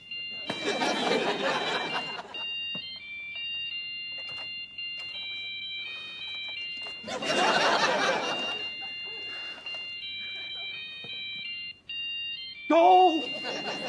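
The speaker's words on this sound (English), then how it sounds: "It's your phone!" A mobile phone plays a synthetic melodic ringtone that loops steadily for the length of the passage, with bursts of laughter and brief voices breaking in over it.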